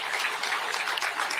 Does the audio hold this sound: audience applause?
yes